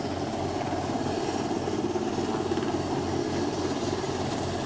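A rescue helicopter hovers low over water, throwing down strong rotor wash, its rotor producing a continuous loud thudding chop over a dense wash of engine and wind noise.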